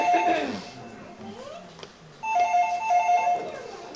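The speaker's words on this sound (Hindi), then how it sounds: "फोन की टीन टीन सुनकर परेशान हो गया।" A telephone rings in a stage theater production, two bursts of bright electronic trilling separated by a short gap, loud and close.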